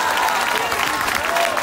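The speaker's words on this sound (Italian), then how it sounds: "E quindi facciamogli un applauso" Crowd at a political rally in Termoli clapping in a brief, dense burst, with faint tonal sounds in the background.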